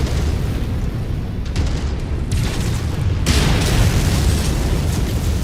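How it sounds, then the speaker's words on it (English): An LRM missile barrage in MechWarrior 5 pounds a target with dense, continuous booming explosions, heavy low rumble rolling on in overlapping waves, loud and close. "That's a long stream of missiles."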